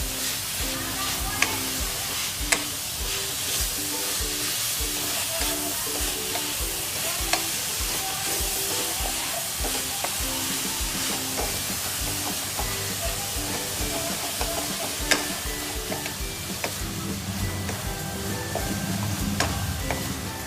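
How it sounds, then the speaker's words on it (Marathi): Grated coconut cooks in melted jaggery in a pan for a modak filling, giving a steady, dense sizzle with frequent scraping stir strokes throughout, close and continuous without a break. "मस्त असं गुळामध्ये आपण खोबरं परतून घेणार आहोत"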